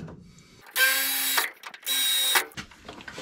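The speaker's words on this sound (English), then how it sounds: "We're going to take a little drill bit and just drill this little pilot hole." Two bursts of a small electric drill whining at high speed while drilling a pilot hole in metal, each about half a second long, separated by a brief pause, close and loud.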